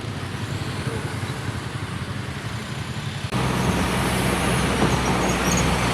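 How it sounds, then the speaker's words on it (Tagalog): Road traffic passing close by, a continuous roar of cars and trucks with a hint of air brakes, growing louder partway through and holding steady. "Traffic."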